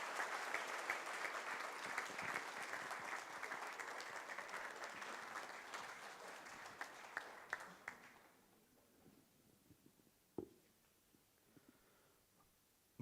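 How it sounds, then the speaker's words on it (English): Steady, sustained audience applause at a conference inauguration for several seconds, then it fades away, leaving a quiet room with a few scattered claps and small noises. "Everyone, please give them a round of applause."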